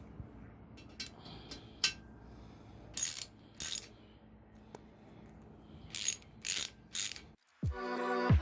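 A ratchet tightens M6 outer girdle bolts on an engine block: several short bursts of sharp, rapid clicking, close and crisp, spaced out between quieter moments, ending with a clunk and a brief mechanical whir.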